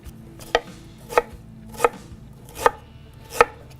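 A kitchen knife cuts through squash on a cutting board with five crisp, evenly spaced chops, each a sharp thud close by against a quiet background.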